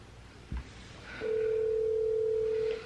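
A telephone call is being dialed: after a brief thump, a steady electronic tone sounds alone for about a second and a half before stopping.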